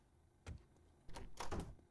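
A locked door in 7 Days to Die rattles when tried: a soft thud followed by a longer double jolt of the handle and frame, faint and brief.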